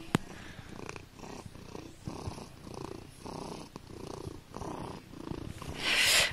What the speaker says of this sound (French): c'était la minute ronron